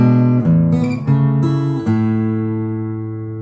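Measure 33 of Randy Newman's "When I'm Gone" on fingerstyle guitar: several plucked notes and chord changes, then a held chord ringing out, close and solo.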